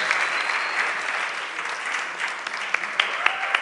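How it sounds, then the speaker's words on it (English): An audience at a youth conclave in Pune claps steadily throughout a short stretch, a dense wash of applause with a few sharper individual claps near the end. "A big round of applause."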